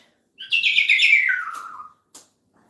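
A pet bird gives one clear, bright chirping call, close and loud, with a falling whistle that lasts over a second, then a short faint peep follows in a quiet room.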